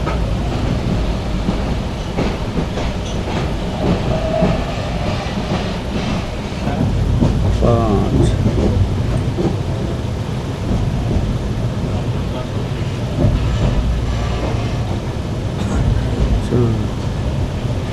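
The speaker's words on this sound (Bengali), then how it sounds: "আস্তে আস্তে টুকটুক করে আমাদের ট্রেন কমলাপুর রেলওয়ে স্টেশনের ভিতরে ঢুকতেছে" Suborno Express train rolling slowly into Kamalapur railway station, with a steady low rumble, faint wheel clatter and brief squeals; people talk over it throughout.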